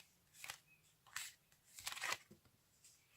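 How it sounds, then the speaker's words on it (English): Several quick Hindu shuffles of a deck of playing cards by hand, crisp papery bursts in an uneven rhythm, close and fairly quiet. "Again, do your Hindu shuffle."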